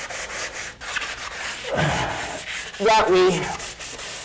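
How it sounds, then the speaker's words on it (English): An interior window frame is sanded by hand, with short scratchy back-and-forth strokes under a person's brief speech. "you won't be able to do it with a hand sander like we can right now"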